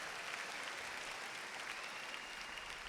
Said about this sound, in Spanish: Dale un aplauso a Jordan.